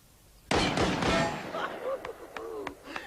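A gun fires in a film scene: a loud, close blast with a burst of sharp cracks ringing on, then a few fainter clicks and snaps as voices murmur beneath.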